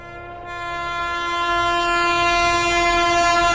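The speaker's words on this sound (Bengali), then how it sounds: "হঠাৎ দূর থেকে এক অজানা ট্রেনের আওয়াজ শোনা যায়।" In a ghost cartoon, a train approaches from far off, its sustained horn blaring and swelling steadily louder over a low rumble of wheels as it draws near.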